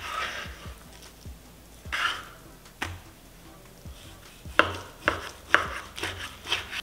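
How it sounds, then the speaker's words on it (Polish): A knife slicing meat across the grain into thick slices on a board, with a series of sharp cuts and taps, sparse at first and then quicker and louder toward the end. "Kroimy w poprzek włókien, tak żeby po rozbiciu one były bardzo kruche"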